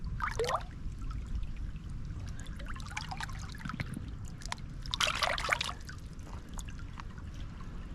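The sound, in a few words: swishing water around rocks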